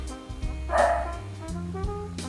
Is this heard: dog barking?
yes